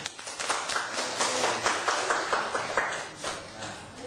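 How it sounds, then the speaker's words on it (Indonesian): A small group at a teachers' workshop claps for a few seconds, an uneven patter of hands that stays fairly soft and steady. "Tepuk tangan dulu, bagus."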